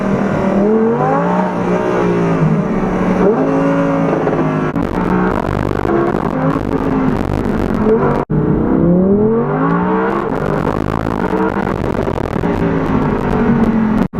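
An Audi R8 V10 RWS sports car drives with its V10 engine loud and close, pitch rising and falling through repeated revs and gear changes, with brief drops between pulls.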